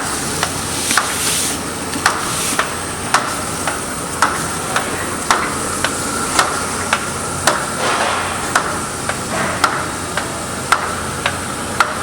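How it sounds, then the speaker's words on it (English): A 2011 ABG Omega 1300 digital web laminator sheeter runs with a steady mechanical hiss, punctuated by regular ticking clicks roughly every half second from the web aligner, heard at moderate level without talk. "See the web aligner there working."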